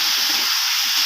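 Cut eggplant hits a hot pan of spiced oil, giving off a loud, steady hiss of sizzling steam that holds for about a second.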